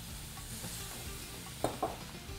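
A thick flour paste is stirred in a pan while milk is added slowly, giving a quiet sizzling and scraping sound with a couple of brief louder scrapes, no voices.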